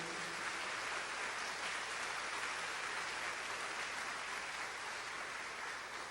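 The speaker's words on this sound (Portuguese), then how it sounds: "Vamos aplaudir o nosso Deus." A church congregation applauds steadily, a dense, even wash of many hands clapping at moderate distance with no break, sounding almost like heavy rain.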